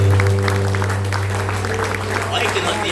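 A church congregation at a Brazilian family service claps in a broad, continuous patter of many hands, held steady under a low amplified hum and some voices.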